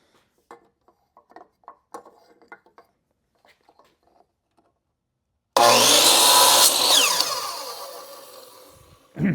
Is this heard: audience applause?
no